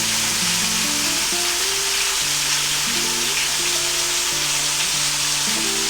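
Chopped green chilies and salt sizzle steadily in a hot pan, a continuous bright frying hiss with faint stirring and music underneath.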